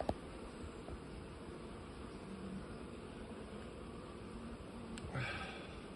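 Honey bees in a traditional folk log hive give off a steady, low, continuous buzz throughout, fairly faint and even, with a brief soft tap near the start.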